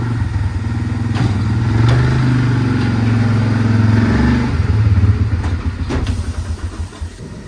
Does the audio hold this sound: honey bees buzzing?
no